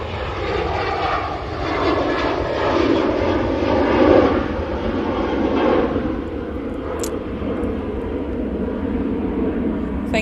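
Ryanair airliner departing Manchester Airport for Rome, a broad steady engine roar that swells toward the middle and then holds, fairly close and loud with no talk over it.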